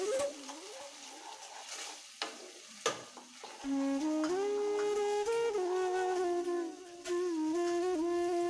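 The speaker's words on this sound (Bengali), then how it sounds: "ভালো করে কড়াইতে কষিয়ে নেব সসটা একটু।" Chilli soy sauce for chilli fish bubbling in a kadai, with a soft sizzle and a few spatula scrapes early on, then a melodic musical tune rises and plays over the cooking.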